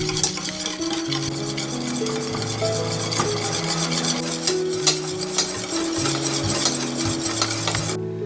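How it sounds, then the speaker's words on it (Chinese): Egg yolk and fine sugar whisked nonstop in a pot over low heat for tiramisu, producing a continuous rapid scraping whir with shifting tonal rings from the metal, loud and close, cutting off at the end. "全程小火加热， 不停地搅拌。"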